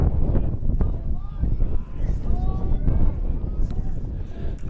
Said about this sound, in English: Windy, you can hear it in the background.